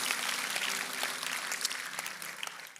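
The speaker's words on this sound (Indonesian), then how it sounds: "Berikan tepuk tangan kita untuk Tuhan kita." A church congregation clapping in unison, a dense, steady wash of many hands at a moderate distance, continuing for the full few seconds.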